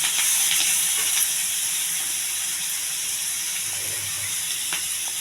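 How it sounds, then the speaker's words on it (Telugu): Curry leaves and onion fry in hot oil in a home kitchen, giving a steady, bright sizzling hiss that runs unbroken throughout, with no voices. "కరివేపాకు వేగిస్తున్నాను ఫస్ట్."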